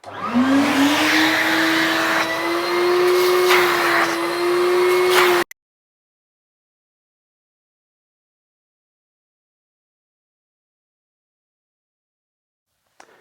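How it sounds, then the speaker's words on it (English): A loud vacuum cleaner whines steadily with a rising motor pitch for about five seconds, then cuts off abruptly into silence. "this vacuum is a very powerful one and it's going to be really loud"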